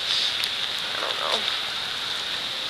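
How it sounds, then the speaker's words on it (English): Steady rain falls and patters on surfaces nearby, a continuous hiss with a few faint voices in the background. "Day 2 of rain. I don't like the rain."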